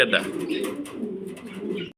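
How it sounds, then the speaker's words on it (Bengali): A female pigeon at a fancy-pigeon breeder's loft gives soft, low cooing that runs through most of the two seconds, close and moderately loud, with a voice faintly present in the background. "এটা মাদি কবুতর"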